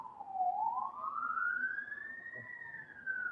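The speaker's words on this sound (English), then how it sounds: "See, that's a fire truck" A wailing siren rises and falls steadily, clear and fairly close, with no talking over it.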